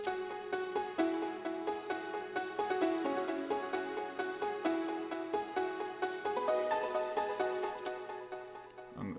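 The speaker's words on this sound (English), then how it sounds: "Then I added a piano," A piano melody for a futuristic beat plays a bright repeating figure of plucked notes over a soft low sustained layer, moderately quiet and steady, with no voices.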